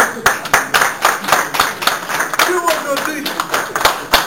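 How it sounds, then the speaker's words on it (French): A crowd of Congolese supporters at a Brussels gathering claps in sharp, rhythmic unison, each beat distinct and close, while voices call out underneath the clapping. "Je vous demande tout d'abord d'applaudir vous-même les combattants"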